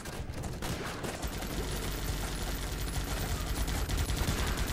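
Dense, continuous gunfire in the war game Guns Up!: rapid overlapping shots and machine-gun bursts form a loud, unbroken barrage throughout, with no voice.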